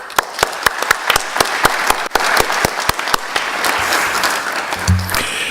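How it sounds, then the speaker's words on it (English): A conference audience gives hearty applause for its speakers: dense, sustained clapping from a crowd at steady loudness for several seconds, with a few sharp individual claps standing out and a brief low murmur near the end. "What if we give a hearty round of applause for all of our speakers this morning?"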